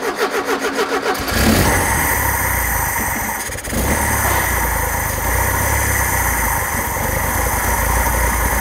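A VW bus engine running on old fuel cranks with a quick rhythmic starter whir, then catches and settles into a loud, steady running drone close by, with a brief dip in level before it picks back up.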